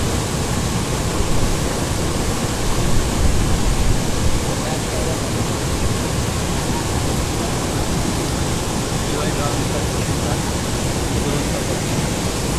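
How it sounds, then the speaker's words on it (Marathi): Water rushes out through the opened gates of Upvan lake in Thane as it overflows, a loud, steady, broad roar that holds unbroken throughout. "हे बघा हे दरवाजे असे उघडलेले आहेत आणि हा पाण्याचा निचरा"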